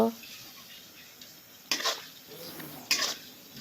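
Onion, garlic, turmeric, cumin and chili powder with green chili sautéing in oil, a steady faint sizzle with two sharp stirring scrapes of a utensil against the pan.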